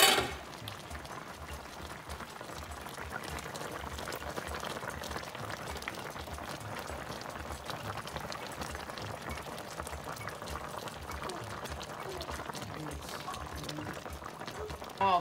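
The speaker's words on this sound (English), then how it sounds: "So now that it has boiled, has reached boil" Plantain and cocoyam porridge bubbles at a steady boil in a pot over a fire, a continuous noisy bubbling hiss with a soft clatter at the start and end.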